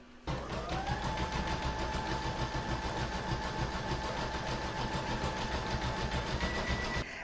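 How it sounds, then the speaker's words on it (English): Embroidery machine stitching a decorative satin stitch border around a baby bib held in a hoop, with variegated thread, a steady close mechanical whir and rapid needle chatter that runs continuously for about seven seconds, then stops. "I'm going to pop my hoop back into my machine to stitch round number 9, and that's going to do all a decorative satin stitch border"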